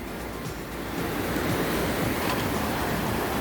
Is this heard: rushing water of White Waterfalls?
yes